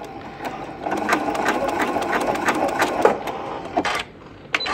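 A sewing machine runs a short back stitch on quilt binding, a rapid mechanical stitching chatter with rhythmic needle clicks at close range, pausing briefly near the end.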